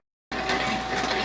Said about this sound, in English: the noise you hear in the background is the rotary tumbler